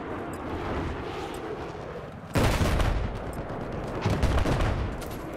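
Gunfire in Battlefield 4 multiplayer Conquest on Xbox One comes as dense, rumbling bursts of rapid shots and distant blasts, growing sharply louder partway through and staying busy to the end.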